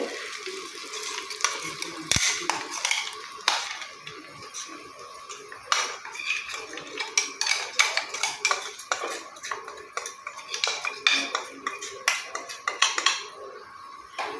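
A metal spoon stirs herbal powder into oil in a wide pot, giving irregular scraping clinks and taps against the pot's sides in a loose rhythm, close and fairly quiet, with no speech.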